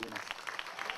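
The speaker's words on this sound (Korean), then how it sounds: "무대 뒤까지 번져온 박수 소리." Audience applause after a samul nori traditional Korean percussion performance, heard from backstage: dense, steady clapping from a large crowd, slightly muffled and distant, continuing without a break.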